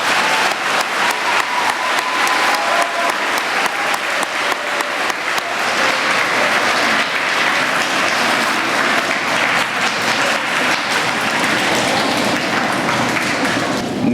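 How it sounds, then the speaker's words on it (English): Middle school students applauding Army veterans and active duty members at a Veterans Day gathering, a loud sustained round of clapping from a large crowd in an indoor hall, steady throughout without talk. "Let's give them a round of applause"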